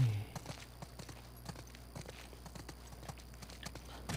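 Steady clip-clop of horse hooves at a walking pace in the video game The Last of Us Part II, even and rhythmic, moderately quiet against a faint background hum.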